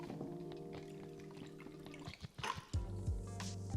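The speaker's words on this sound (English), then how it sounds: "Pour that all the way up to the top, just like that." Strained Bloody Mary cocktail poured into a glass, a close liquid pour and trickle that breaks into a few splashy drips before a fuller steady stream fills the glass.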